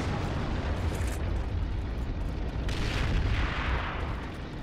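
A Sherman tank blows up in a World War II battle video game, a loud sustained rumbling blast with rolling booms and crackling debris that swells again midway and carries on to the end with no talk.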